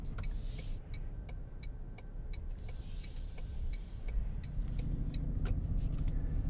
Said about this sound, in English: we could listen to the turn signal